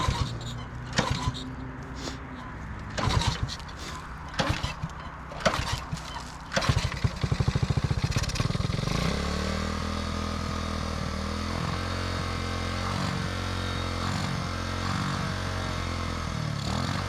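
A Honda CB350 motorcycle engine sputters through several uneven starting bursts, then settles into a steady, close idle that runs on for the rest of the clip.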